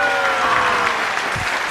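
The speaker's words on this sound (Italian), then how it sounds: "Fatelo sentire un po' con un applauso." An audience at a televised music show applauds, a dense, steady wash of clapping close and loud for the full length, with a faint voice underneath.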